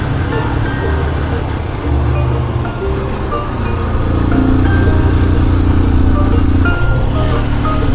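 A motorcycle engine drones steadily on a winding road through tea fields in Sri Lanka, a continuous close hum with wind noise that swells slightly midway, under a speaking voice.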